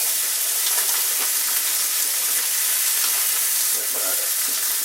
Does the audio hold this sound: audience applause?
no